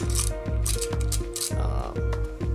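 A hex key turns a gear inside the gearbox of an Umarex HK UMP 45 airsoft gun, giving a loud close series of evenly spaced ratcheting clicks as the part rotates.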